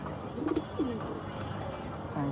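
Pigeons kept for breeding coo softly nearby in a few short throaty calls over a background hum and faint murmuring, with no clear speech.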